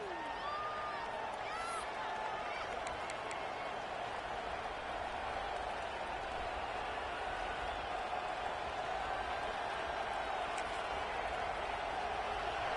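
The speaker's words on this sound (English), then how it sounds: "This crowd ready to make its presence known." A stadium crowd in an EA Sports College Football video game, at an Oregon Ducks game, keeps up a steady, even roar of cheering and applause for the whole stretch.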